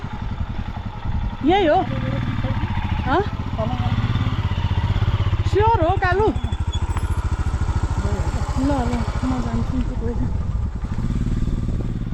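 A motorcycle rides a mountain trail, its engine droning steadily and loud for the whole stretch, while riders talk over the rumble.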